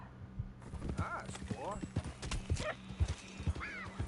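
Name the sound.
horse hooves and neigh in Red Dead Redemption 2 video game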